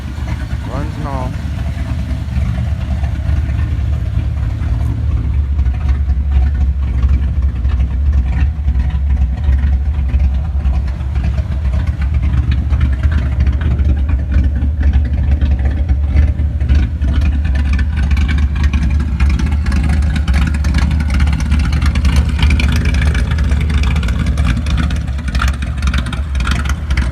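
A cammed Chevrolet Camaro engine runs at a steady idle, giving a loud, continuous low rumble with a lumpy, uneven throb that holds for the whole stretch.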